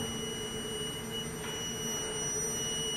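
A carbon monoxide monitor alarm on a 3M filter and regulator panel sounds as a steady, continuous electronic tone over a constant background hum, unbroken for the whole stretch.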